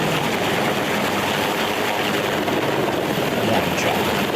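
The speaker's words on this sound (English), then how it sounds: "I'm only seeing one chopper at the moment" A helicopter flies overhead, its rotor chop and engine roar loud and continuous throughout, a broad steady wash of noise with no talk over it.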